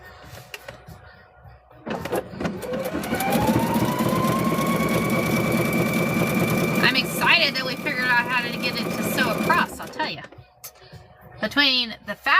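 A Husqvarna sewing machine stitching fabric for a car seat cover, a steady motorised whir and rattle running for about eight seconds, starting and stopping, with voices talking around it.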